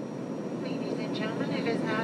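Airplane sound effect, a steady broad jet-cabin roar held at even loudness for a couple of seconds with faint whistling tones above it.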